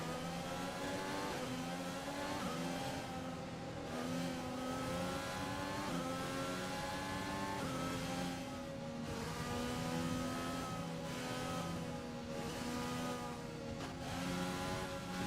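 A Formula One race car in the F1 2020 video game roars continuously at high revs, its engine pitch rising and dropping through gear changes over fifteen seconds, with no speech.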